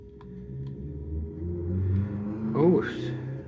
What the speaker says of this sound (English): I don't know if you heard that motorbike exhaust pipe there